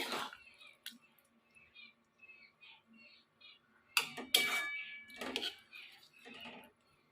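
A metal lid is lifted off a cooking pot of mung beans and pointed gourd, giving a few sharp clinks and scrapes at close range, with soft talk in between.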